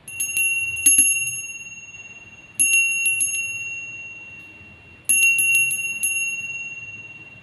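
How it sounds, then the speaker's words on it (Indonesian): A bright bell rings in three separate bursts, each a few quick strikes followed by a long ringing fade, close and clear. "kita akan memulai dengan ditandai lonceng berbunyi"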